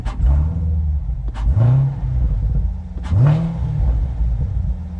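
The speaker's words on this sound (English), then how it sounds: "we're going to go from touring to sport, and the exhaust gets louder" A Chevrolet Corvette C7 Z51 engine revs repeatedly in sport mode with a loud, rumbling exhaust, each blip rising and falling against a steady idle.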